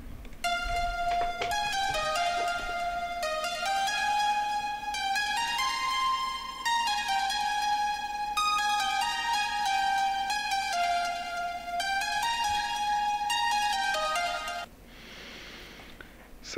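Synthesizer lead preset, custom-made and built from two layered parts, playing a bright, steady melodic line of sustained harmonic tones for about fifteen seconds, then dropping to a brief soft noisy tail.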